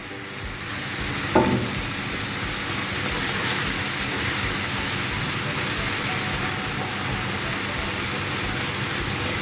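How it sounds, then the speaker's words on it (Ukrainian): Zucchini and mushrooms sizzle loudly and continuously in a frying pan over medium heat, with a brief clatter of a utensil near the start as they are stirred. "Ось так помішуючи, смажемо."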